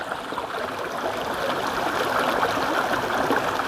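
Stream water rushing over rocks at an Appalachian Trail creek crossing, a steady close wash of flowing water that holds level throughout.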